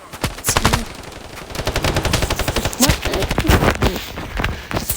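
Gunfire in a video game: rapid bursts of automatic shots crackle close and loud through the whole stretch, with a few heavier single reports, while a voice speaks briefly in the background.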